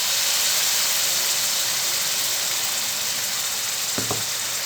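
Ground tomato and salt sautéing in hot oil in a pan give a steady, loud, even sizzle and hiss throughout, with a brief utensil clatter near the end.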